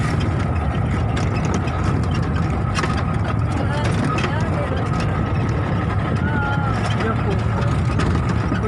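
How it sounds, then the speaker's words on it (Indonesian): An old antique car rattles and jolts over a rough off-road track, giving a steady loud engine drone under constant clattering and knocking, with people talking over it. "ini mobil antik jadinya pating gradek guys"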